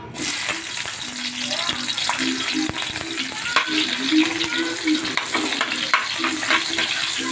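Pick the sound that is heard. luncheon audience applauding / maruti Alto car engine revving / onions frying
onions frying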